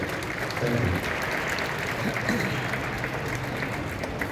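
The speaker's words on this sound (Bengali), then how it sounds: "হাততালি দেখে কিন্তু ক্রিকেট মাঠ বোঝা যাচ্ছে না" Steady applause from a ceremony crowd at Eden Gardens cricket ground in Kolkata, a dense, moderately distant patter of many hands that holds evenly throughout, with faint voices mixed in.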